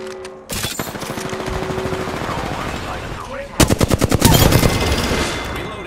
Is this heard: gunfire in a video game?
yes